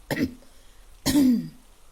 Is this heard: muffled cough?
yes